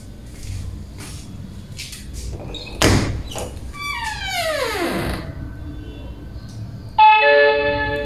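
A door fitted with a wireless door alarm sensor is opened and closed, giving bumps, a loud knock, a long squeaky sliding sweep, and then a sharp electronic chime from the alarm at the end.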